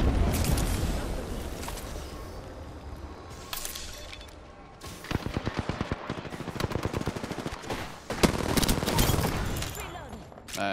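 Automatic weapon fire in the Apex Legends battle royale game, dense rapid bursts and single cracks layered over game music and effects, with a loud clustered stretch of shots in the second half.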